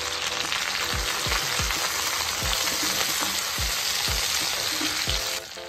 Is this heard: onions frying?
yes